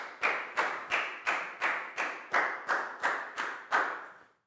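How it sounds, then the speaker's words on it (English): A steady run of about ten sharp, evenly spaced claps in a classroom, applause for a student after a lesson activity, close and clear with no talk over it, fading out at the end. "High five and a big round of applause for Pak Bung,"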